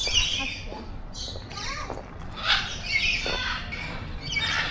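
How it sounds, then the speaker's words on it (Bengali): Blue-and-yellow macaw at a zoo, giving several harsh squawks amid busy bird chatter, with people talking nearby. "Wow, blue and yellow macaw."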